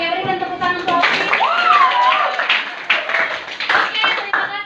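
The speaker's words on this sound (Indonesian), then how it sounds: "berikan tepuk tangan untuk Alvin" A class claps for a student named Alvin, with a burst of hand claps mixed with children's voices, a rising and falling whistle-like cry, and scattered taps that fade and restart.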